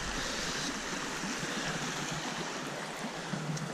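A river flows at a remote, lonely trailhead on Tasmania's Overland Track, giving a steady, full rushing wash of water that stays close and even throughout.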